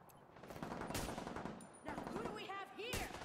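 Rifle shots in The Division 2: Warlords of New York, aimed at an enemy's head. Sharp cracks land at intervals over constant game noise, with electronic chirps and tonal effects in between. A voice talks faintly in the background.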